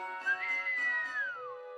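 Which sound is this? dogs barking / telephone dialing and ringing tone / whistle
whistle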